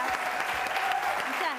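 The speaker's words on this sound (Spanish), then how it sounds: "fuertísimo el aplauso para Lucía Rodríguez" Studio audience applause on a TV C talk show for guest Lucía Rodríguez, a steady dense patter sustained throughout, with a host's voice and a high tone riding over it.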